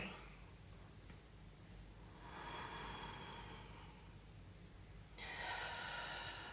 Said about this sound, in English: I'm going to do a breath where I actively stretch the ribs rather than breathe into them